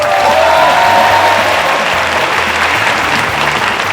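Loud, sustained crowd applause fills a comedy awards show hall, thick steady clapping holding at an even level throughout.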